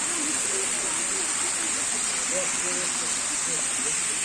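The natural Yerköprü waterfall pours with a steady, dense hiss of falling water, close and unbroken, while faint voices murmur beneath it.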